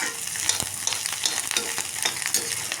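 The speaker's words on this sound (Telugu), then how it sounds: "కొంచెం అటు ఇటు తిప్పుకుంటూ ఉండాలి" Bitter gourd curry sizzles in a pan while a utensil stirs it back and forth, giving repeated scraping strokes over a continuous frying hiss, close and without talking.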